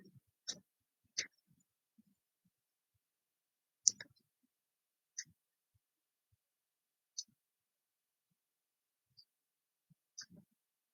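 Several isolated mouse clicks, sharp and faint, come at irregular intervals against near silence, with a few soft clicks close together near the end.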